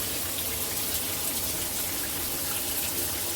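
A shower in an old house in France runs steadily with hot water, giving a dense, even hiss of spray that stays close and constant throughout with no voices.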